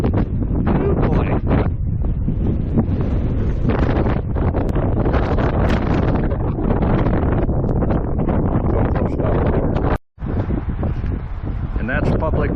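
Heavy wind batters the microphone during a boat trip, a continuous loud rumble with sharp gust pops and a brief cutout near the end, with a voice speaking under it.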